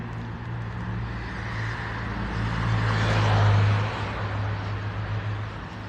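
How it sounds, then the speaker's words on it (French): Car engines roar far off across Monaco, a steady low rumble that swells toward the middle and fades again, with no voices over it. "J'entends des moteurs qui hurlent."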